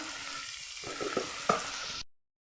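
Spices sautéed in oil for a bhetki fish curry, a low steady sizzle with a few stirring scrapes and one sharp clink before it cuts off to silence.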